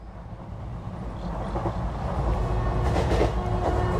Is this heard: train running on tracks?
yes